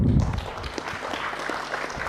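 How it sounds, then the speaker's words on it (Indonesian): Applause for a minister fills a hearing room with a steady, dense patter of many hands. It holds at an even level from start to end. "Tepuk tangan untuk Pak Menteri."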